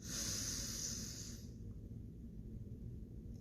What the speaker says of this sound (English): Another one, deep breath in.